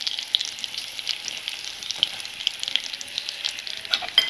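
A prepared spice masala fries in hot oil with greens and a dried red chilli for a home-style thali lunch, giving a steady, moderately loud crackling sizzle with scattered sharp pops and no talking.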